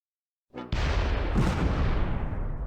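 German mortar fire in the WWII strategy game Close Combat 3, set on the Russian Front at the Korsun Pocket: a sudden loud blast breaks the silence, then a dense roaring rumble sustains without any talk.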